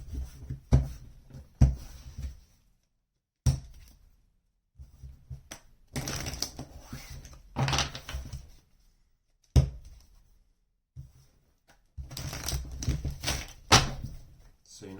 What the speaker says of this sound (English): So you know I'm shuffling the deck.